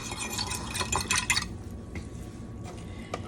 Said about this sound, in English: go ahead and do some extra stirring to make sure you get it all taken care of